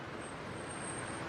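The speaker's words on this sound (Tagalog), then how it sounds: "Kasagsagan ng traffic dito yan" Road traffic rumbles steadily at a busy Monday rush hour, a continuous broad wash of engine and tire noise with a faint high whine above it.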